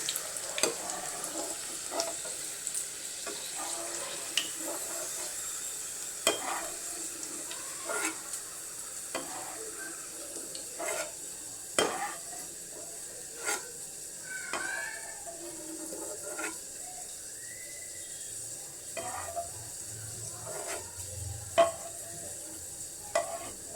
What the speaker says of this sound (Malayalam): ഞാൻ വറുത്തത് കോരിയെടുക്കുകയാണ്